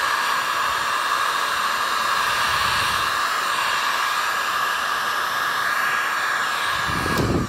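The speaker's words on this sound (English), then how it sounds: "I've got my heat gun," A heat gun warming Worbla thermoplastic blows a loud, continuous airy whoosh with a steady hum, running unbroken throughout at close range.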